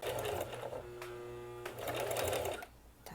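A domestic sewing machine stitching braided straw rope runs in a steady close whir, pausing briefly at about the middle of the clip and then starting again before stopping near the end.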